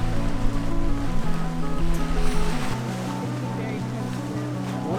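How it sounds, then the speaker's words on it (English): Big ocean waves crash and roll on the shore in a loud, continuous roar of surf, with wind buffeting the microphone and people talking over it. "What a big wave."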